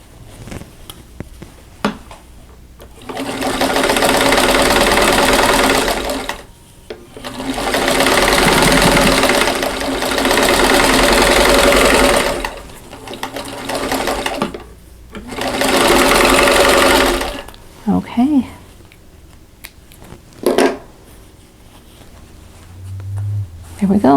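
A sewing machine sews a seam of a quilt block in several loud, close whirring runs separated by pauses, with rustling fabric and brief handling noises in between.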